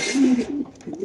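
Racer pigeons for sale at a market stall give a close, loud coo followed by softer, broken murmurs from the birds, with no talk over them.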